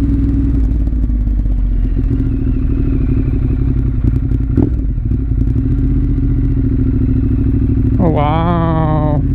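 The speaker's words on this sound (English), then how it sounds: "Guys, this bike sounds great." A 2014 Ducati Monster 1200 S engine rumbles steadily and close during a ride, with a rising rev climbing sharply near the end; a brief exclamation from a rider is heard.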